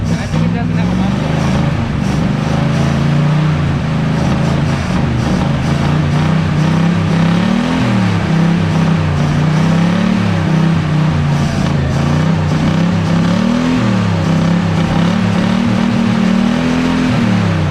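A 1966 Buick Skylark engine idles without a muffler and with an exhaust leak, a loud, rough, throbbing rumble that rises and falls in uneven surges, close to the car, while people talk over it.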